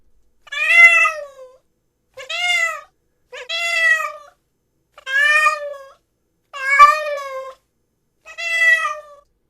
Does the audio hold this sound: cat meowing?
yes